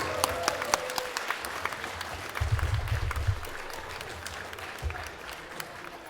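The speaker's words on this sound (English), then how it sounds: "one more round of applause for all the rest of our men lifters, our male lifters" A crowd applauds male lifters at a bench press and deadlift powerlifting meet, steady sustained clapping filling the hall at moderate distance, with a few louder individual claps and low voices beneath.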